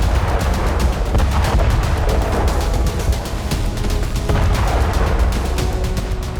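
Combat in Ukraine with mortar fire and gunfire: loud, dense bursts of shots and heavy booms rolling over one another almost without pause, with no voices.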